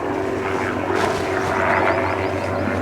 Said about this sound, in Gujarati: હેલિકોપ્ટર જાય